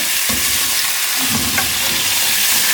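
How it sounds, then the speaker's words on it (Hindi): Beef pieces fry in hot oil for biryani while being stirred, a loud continuous sizzle and hiss with scraping and clinks of a spoon against the pot, close up and without voices. "पहले गोश्त को ऐड करना है। इस तरह ये इसको थोड़ा सा मिक्स करके हल्का सा आपने भून के"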